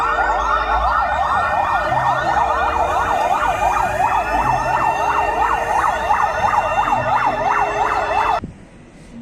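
Wailing siren of a red fire rescue truck, a loud close rising-and-falling yelp cycling steadily for about eight seconds before cutting off abruptly.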